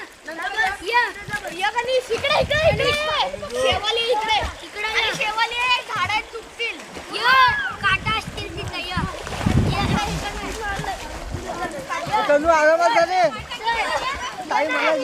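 Children jump into a river during a Ganesh immersion festival in Konkan, with repeated splashes and churning water under a constant stream of excited, shouting kids' voices.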